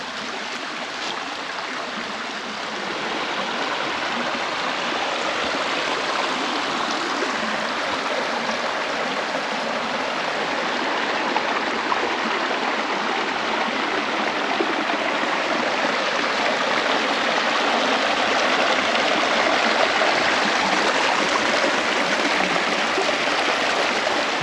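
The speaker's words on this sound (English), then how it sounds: "This is quite the falls here." Creek waterfall with a tall drop, rushing water making a continuous broad roar that holds steady throughout, close and fairly loud, without voices.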